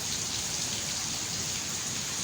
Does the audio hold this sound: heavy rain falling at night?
yes